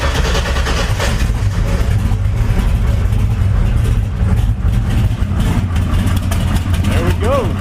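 A twin-turbo Ford Mustang engine cranks and runs for its first start, a loud, steady low rumble that fills the whole stretch and holds at a constant level throughout.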